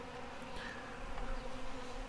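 Honey bees swarm around a honey lure, producing a continuous, close buzzing hum with individual wingbeats drifting past and rising slightly in places, with no voices.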